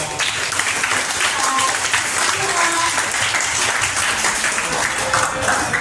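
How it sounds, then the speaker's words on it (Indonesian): Students at a junior high school leadership training day applaud together in a steady, sustained round of clapping, with a few voices faintly audible underneath. "Ya, tepuk tangan dong."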